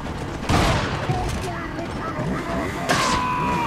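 Shotgun blasts in the video game Resident Evil 4, two loud sharp booms about two seconds apart over busy game sound and a player talking.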